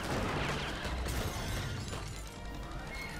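A car being destroyed in the LEGO Indiana Jones 2 video game, heard as a low, steady crunch and shattering rumble with scattered clattering pieces, fairly quiet and without talk.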